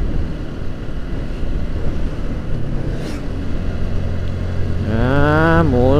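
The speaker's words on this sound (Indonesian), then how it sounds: "Wah, anginnya kenceng ini lur. Iya, anginnya bianter ini." Strong wind rushing across the microphone while riding along a hilly road between Purwantoro and Slogohimo in Wonogiri, a loud continuous roar with an engine tone rising near the end.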